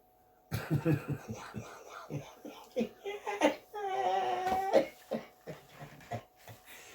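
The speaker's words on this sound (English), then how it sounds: "See, he's coughing, you know, because he's sick." A 72-year-old Jamaican man, sick, gives a series of short, hoarse coughs and wheezy sounds, close by, broken into bursts with brief pauses between them.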